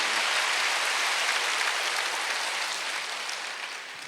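Church congregation clapping during a Wednesday worship sermon, a dense, even roar of many hands that holds steady and slowly tapers toward the end, with no voices over it.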